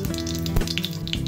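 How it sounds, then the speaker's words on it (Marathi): Mustard seeds crackle and sizzle in hot oil as a tempering, a short, steady frying hiss heard under a faint musical background. "आता ह्या तापलेल्या तेलामध्ये आपण एक एक फोडणीचं साहित्य घालूया। मोहरी"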